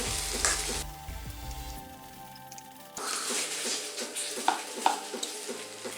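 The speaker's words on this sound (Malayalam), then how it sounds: "ഇതിലേക്ക് ഈ മാഷ് ചെയ്ത് വെച്ച പൊട്ടറ്റോ കൂടി ഇട്ട് കൊടുക്കാം ഇതെല്ലാം കൂടി നന്നായിട്ട് ഒന്നുകൂടി ഒന്ന് മിക്സ് ചെയ്ത് കൊടുക്കാം" Mashed potato samosa filling stirred in a frying pan, giving a steady close sizzle with scraping, clattering spoon strokes and a brief louder patch midway; no one speaks.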